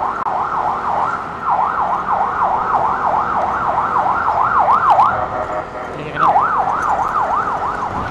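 A wailing ambulance siren cycles rapidly up and down, fairly close, briefly dropping out before resuming over low traffic rumble on a street in Tondo, Manila.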